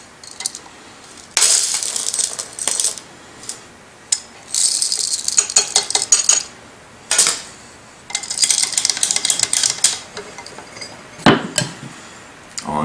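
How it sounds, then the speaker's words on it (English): An OE Pharos hand coffee grinder crunches espresso beans, with loud gritty rattling bursts of cranking separated by brief quiet gaps, close and alone with no speech. "I'll go ahead and I'll grind 14 grams."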